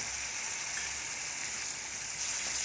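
A sabudana upma mixture with lemon juice added fries in a hot pan, producing a loud, even sizzle that stays constant throughout, with light stirring underneath and no talking.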